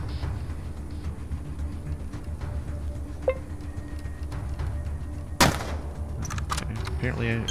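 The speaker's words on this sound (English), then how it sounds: "Alright, there's a shot." A single sharp gunshot rings out in the post-apocalyptic video game Atom RPG, a loud crack near the end that stands out over low ambient game noise after a smaller earlier click.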